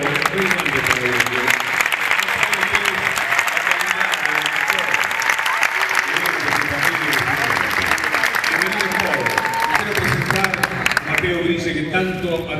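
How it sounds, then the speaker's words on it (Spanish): A crowd at a book presentation at the Feria del Libro applauds steadily and warmly for the whole stretch, with a few voices and cheers mixed into the clapping. "un aplauso muy grande para ellos."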